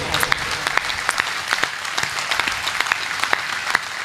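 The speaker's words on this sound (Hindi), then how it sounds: "तालियां उठाओ तो ऐसी उठाओ कि आपका जोश मुझ तक पहुंचे।" Steady applause from an audience, with many sharp individual claps in a continuous rattle throughout.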